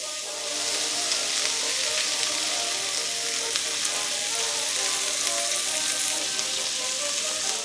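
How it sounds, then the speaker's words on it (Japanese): Skewers basted with a sweet sauce sizzle steadily over heat, a constant close crackle and hiss with occasional sharper pops, with no talking. "じっくりとタレが焦げつかないように気をつけながら焼いていきましょう"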